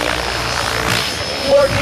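A Mikado RC helicopter with 813 mm blades running on a 14-cell battery flies in a steady, broad whirring drone that stays loud throughout while voices talk nearby.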